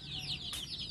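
Free-range chickens cluck softly with short, fluttering calls close by in a quiet yard, one brief sharper squawk cutting in near the middle.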